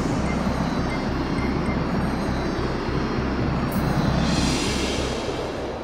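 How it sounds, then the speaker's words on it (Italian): A Stockholm metro train runs steadily and loud, a continuous low rumble with regular rhythmic clacks of wheels over rail joints and a brief high squeal near the end. "Alla stazione Hötorget della metropolitana prendiamo uno dei treni in direzione sud"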